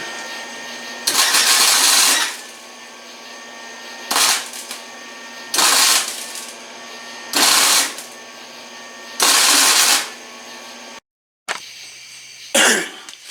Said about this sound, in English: I'm ready to start welding it in